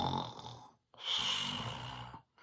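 A storyteller's voice imitates a bear snoring in a cave, with two long, rasping snores separated by a short pause, close and loud with no other sound.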